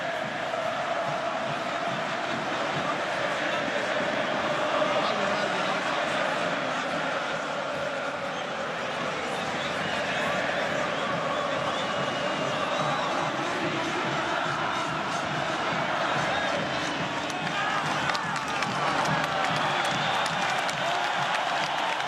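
Grêmio supporters sing and cheer in a stadium while the club celebrates winning the 2016 Copa do Brasil. A dense, continuous roar of chanting fills the whole stretch, loud but set at a distance, with faint talk mixed in.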